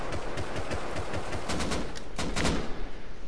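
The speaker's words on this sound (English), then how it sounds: "He's shooting at you." Rapid gunfire from an enemy in the survival game Rust, a string of cracking shots in quick bursts over background noise, the firing growing denser toward the end.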